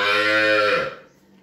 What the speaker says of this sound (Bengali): আপনারা সামনে একটি কালো ক্রস জাতের গরু দেখছেন।